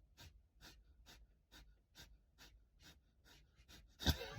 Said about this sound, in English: So breath of fire.